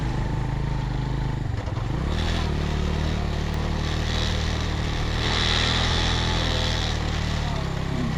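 A motorcycle with some loose nuts and bolts climbs an uphill mountain track in Rama Valley near Astore, its engine droning loud and close with rattling clatter and a brief rev change.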